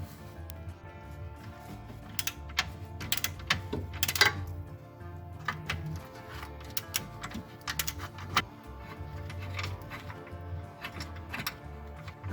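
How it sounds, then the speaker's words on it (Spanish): A ratchet clicks rapidly in bursts while drive shaft bolts are backed out on a car, a close, fairly quiet run of sharp ticking strokes with short pauses between. "Y ahora ya con la carraca la sacamos lo que queda."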